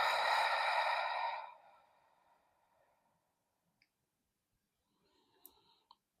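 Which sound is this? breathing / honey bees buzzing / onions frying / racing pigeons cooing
breathing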